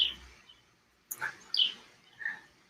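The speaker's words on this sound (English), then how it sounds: "I have a tree outside my house that a lot of birds congregate on." Small birds in a tree outside a house chirp in a few sharp, high, isolated calls spaced over a couple of seconds, moderately near against a quiet background.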